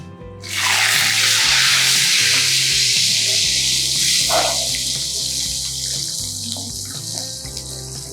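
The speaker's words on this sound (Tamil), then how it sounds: "வெந்தயம் போட்டு நல்லா பொரிஞ்சதுக்கப்புறம் பூண்டு போடணும்" Fenugreek seeds, then garlic, hit hot oil in a pan for a kandangathiri kara kuzhambu, bursting into a loud, close, steady hiss and sizzle that slowly eases, with faint clinks and no talking.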